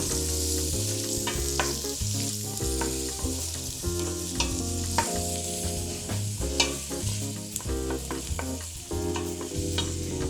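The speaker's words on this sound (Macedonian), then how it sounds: "и ќе пропржам малку кромит" Onion sizzles in a pan at the start of a turlitava vegetable stew, a dense, even crackle with frequent little pops, heard close and without talk.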